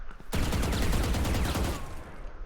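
A sustained spray of rapid gunfire from a gun in the Valorant video game, loud, dense shots for about two seconds before tapering off.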